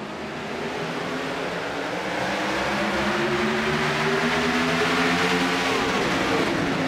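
Race cars in the iRacing game roar past off turn four at Texas Motor Speedway, a steady, loud engine drone swelling as the pack accelerates, with overlapping rising pitches from several cars.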